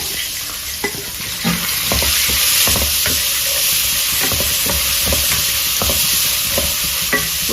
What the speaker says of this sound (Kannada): ಒಗ್ಗರಣೆನಲ್ಲಿ ಈ ಕ್ಯಾಪ್ಸಿಕಮ್ಮು ಮೆಣಸಿನಕಾಯಿ ಎಲ್ಲ ಚೆನ್ನಾಗಿ ಫ್ರೈ ಆಗಿ ಒಂದೆರಡು ನಿಮಿಷದ ಮಟ್ಟಿಗೆ ಬಿಡೋಣ